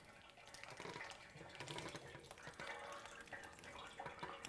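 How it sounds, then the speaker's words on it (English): Farmer's cheese curds draining in a colander, a faint stream of trickling and dripping whey with soft splashes, quiet and continuous with no talk. "Draining farmer's cheese."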